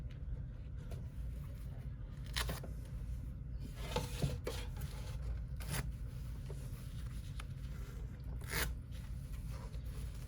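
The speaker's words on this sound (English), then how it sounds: "And then just remove the tape now." Adhesive tape peeling in quiet rasping strips off an embroidered bag still held in its embroidery hoop, with a few brief scratchy pulls over a low steady room hum.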